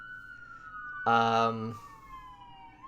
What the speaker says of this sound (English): sirens! There's a fire.